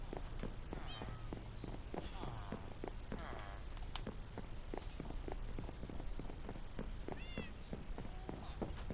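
Minecraft cat meowing several times, faint and fairly distant, over a dense background of game sounds and rapid clicks and footsteps.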